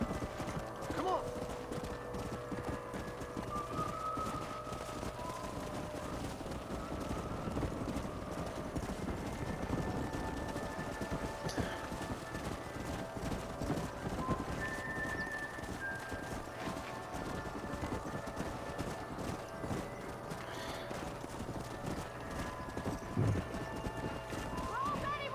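Rhythmic hoofbeats of a black War Horse clatter continuously in Red Dead Redemption, over a dense, steady wash of game sound and background noise, with talking throughout, during cattle herding and horse breaking.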